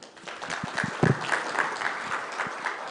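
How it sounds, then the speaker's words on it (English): Audience clapping to welcome Mr. Muchai at a Kenyan environmental forum: a moderate round of applause with distinct individual claps standing out close by, fairly steady, with a few faint voices underneath. "A bigger clap for Muchai."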